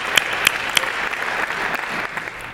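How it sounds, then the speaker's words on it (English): Steady audience applause fills an awards banquet hall, a dense wash of many hands clapping with a few sharper, louder claps standing out near the start, continuing evenly and easing slightly toward the end. "Let's give a round of applause for all Level 3 Continued Performance winners."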